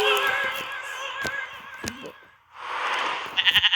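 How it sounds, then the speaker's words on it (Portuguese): A bleating sheep, or a bleat-like animal call, sounds as a voiced, wavering cry over the first couple of seconds, followed by a burst of breathy noise and a quick run of short pulses at the end. "Ovelha."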